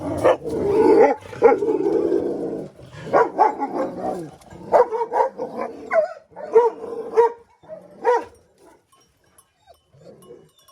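Dogs in rural Bulgaria bark repeatedly in quick, uneven bursts, fairly close and loud, then the barking thins out and fades toward the end.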